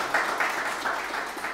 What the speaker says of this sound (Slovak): Potlesk poprosím.